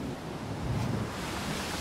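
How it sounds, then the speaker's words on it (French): Stormy Mediterranean waves crash against the wooden hull of a small, pitching boat. The roar of surf and wind is dense and continuous, loud and close throughout, and no one speaks. "Les vagues s'écrasaient violemment contre la coque de bois"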